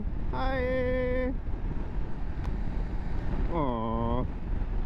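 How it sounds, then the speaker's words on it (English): Strong wind roars steadily against the microphone during a windy road trip toward Sturgis, loud and continuous, with two brief tonal bursts like a car horn or animal call cutting through. "Just to give you an idea of how windy it is"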